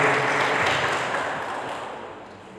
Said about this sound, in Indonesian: Boleh nggak tepuk tangan sama Tuhan Yesus?